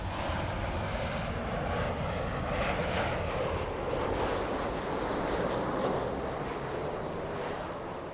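A Southwest airliner arriving at LAX sounds as a faint, distant engine rumble and hiss that swells gently and holds steady throughout, with no talk.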